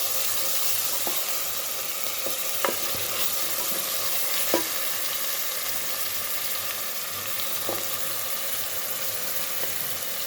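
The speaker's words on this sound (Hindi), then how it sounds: "अब हमने इसे तकरीबन 10 सेकंड के लिए भूनना है।" Two tablespoons of garlic-ginger paste sizzle steadily in a hot pan with oil, with a few sharp scrapes and clicks from stirring, close and continuous.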